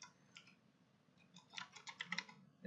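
Quiet typing on a computer keyboard while writing HTML code, a few soft taps then a quicker cluster of key clicks, close and faint.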